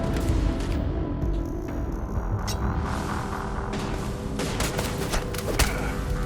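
Gunfire in the space game Starfield comes as scattered bursts and shots over a dense, rumbling combat background. The shots are moderately loud and sit within continuous noise.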